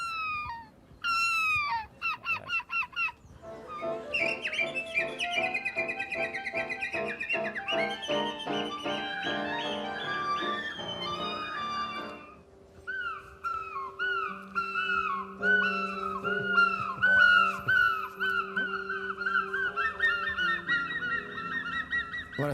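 Two men imitate birds by voice on a French television broadcast, producing honking, goose-like cries and warbling whistled calls in quick repeated phrases, close and loud, with a short lull midway.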